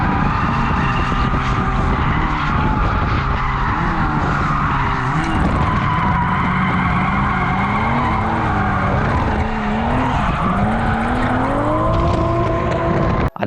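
A V8-swapped Mazda Miata drifts, its engine roaring loud and close with revs rising and falling while the tires squeal continuously throughout.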